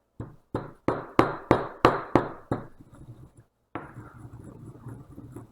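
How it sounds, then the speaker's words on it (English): A teaspoon of cumin seeds pounded for a Kerala-style curry: about eight quick, hard strikes with a ringing edge, then a pause and softer scraping and grinding, close and with no voices. "I'm grinding 1 teaspoon of cumin seeds."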